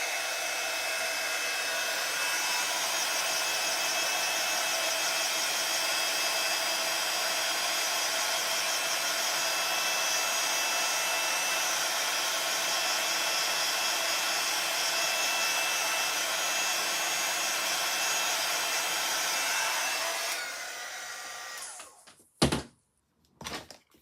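A hair dryer blows steadily and loudly for about twenty seconds while drying a stamped Christmas card, then cuts off, followed by a few sharp thumps and knocks.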